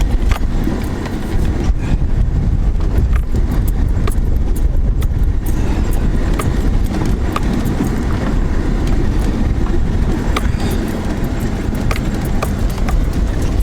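A car crawls slowly over very rocky ground, with a loud continuous rumble and constant clattering, rattling and knocking as stones strike and shift under the tyres.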